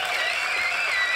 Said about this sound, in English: let's give a round of applause for Rick Doblin